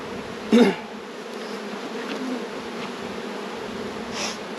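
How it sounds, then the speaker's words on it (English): Honey bees hum in a low continuous drone close by at hives, with one louder buzz passing near the microphone early on and a fainter one later. "lots of bees."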